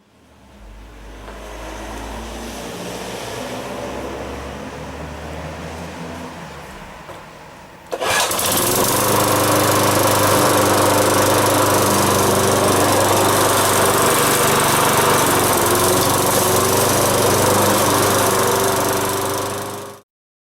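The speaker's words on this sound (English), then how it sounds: "it's about time to mow that goddamn lawn" A lawn mower engine, just repaired with a new throttle cable and control lever, runs at a lower idle for several seconds and then jumps to a louder, steady full-throttle roar that holds close and constant until it cuts off.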